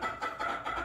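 A rooster or chicken clucks in short repeated bursts, close and fairly loud, with no talking over it.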